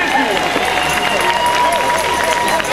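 A crowd claps and cheers at an outdoor Christian march on the Grand Place in Brussels. The steady, loud applause fills the whole stretch, with voices mixed in.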